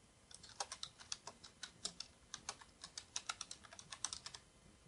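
Quick, crisp key taps on a computer keyboard while entering text into a table in Microsoft Word 2007, with uneven bursts of clicks at close range in a quiet room.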